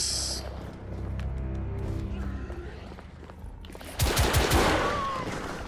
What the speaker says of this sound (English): I'm shooting you full of holes.